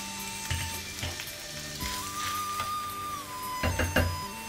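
Mushrooms stir-frying in a pot with chili, a soft steady sizzle with scraping stirs and brief clatters, a faint tone in the background.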